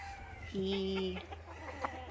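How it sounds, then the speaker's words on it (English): A gamecock, a fighting rooster kept locked in a pen, gives a short, tonal cluck that holds for about half a second, close and clear against a steady background hum, followed by a few softer sounds. "He's a gamecock. He's a fighting chicken"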